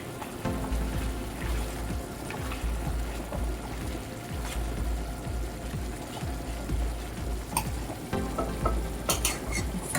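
Pork ribs cooking in beer in a pan, a continuous close sizzle with repeated scraping strokes of a utensil stirring them, broken by a few light clinks.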